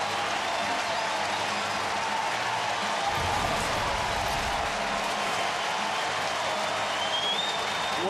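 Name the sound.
stadium crowd applauding Joey Votto's home run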